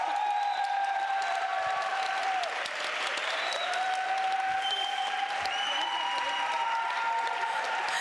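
Sustained audience applause fills a conference panel session on communication and digital feminism, steady and fairly dense for the full eight seconds with only a brief dip near the middle.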